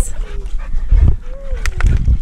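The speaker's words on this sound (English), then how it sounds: "Hi puppies!" Small puppies yip and whimper close by on a beach at a reef shore, brief high whines and soft barks mixed with people talking and background rumble.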